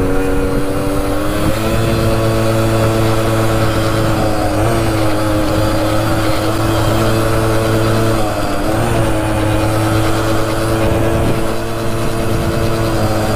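An old Suzuki RV90 motorcycle engine, abandoned for years and with a slightly slipping clutch, runs close and loud with a steady harmonic drone and a couple of brief dips in pitch.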